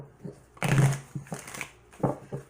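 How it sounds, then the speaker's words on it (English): Tarot cards are shuffled in a few quick riffling bursts, close and fairly quiet, with short pauses between them and no talking. "If I can get the cards to shuffle for you."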